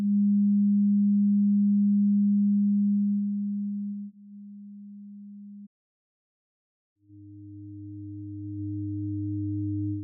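Pure sine carrier tone from the MooMu synthesizer, a steady low hum that drops in level partway through, breaks off into silence, then returns as a softer, thicker ring-modulated drone that slowly swells.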